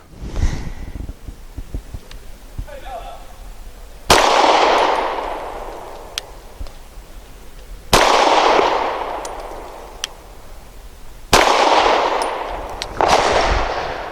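Four widely spaced shots from a Grand Power Q100 pistol firing jacketed hollow point rounds at a target, each a loud, close crack with a long echoing decay, with quiet shuffling handling noise between shots and no speech.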